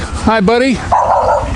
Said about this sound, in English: There's a puppy doggy.